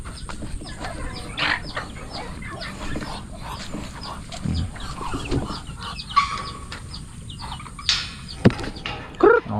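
Chickens cluck and squawk in a busy farmyard after heavy rain, with scattered sharp calls rising over a steady rustle of activity and occasional louder bursts near the end.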